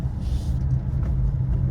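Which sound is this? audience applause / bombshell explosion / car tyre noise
car tyre noise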